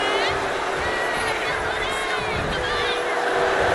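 Dense roar of an arena crowd cheering in the WWE 2K25 wrestling game, a steady, loud wash of crowd noise with whistles running throughout.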